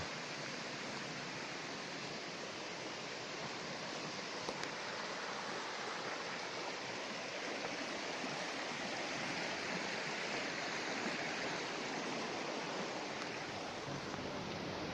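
Steady broadband rush of flowing water, a river in the Borzhava mountains of Ukraine running continuously and fairly close, with no voices.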